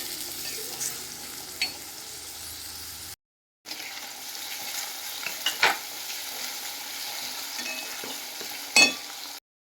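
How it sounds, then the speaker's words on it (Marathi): Chopped onion sautéed in oil in a pan for cashew masala, a steady close sizzle broken by occasional scraping spatula strokes, with a short silent gap partway through. "कांदा परतून घेऊ."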